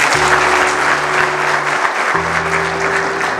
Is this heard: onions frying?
no